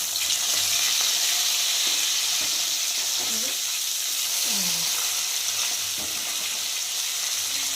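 Rohu fish pieces fry in oil in a wok, a loud, constant sizzling hiss with occasional stirring scrapes and faint voice-like tones underneath.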